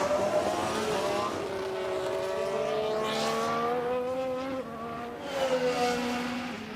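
Formula 1 cars in a modded F1 Manager 2013 race at the Red Bull Ring howl steadily, with high engine tones that climb and dip as cars pass and overtake one another, a continuous, loud racing drone.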